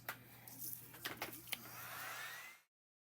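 A heat tool blows steadily across a craft project, drying a paint medium with a continuous whirring rush that runs close and loud for over two seconds, accompanied by a few small clicks and taps before it cuts off.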